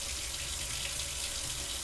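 Tap water runs steadily from a kitchen faucet as bread is being made, giving a continuous soft hiss that stays even throughout.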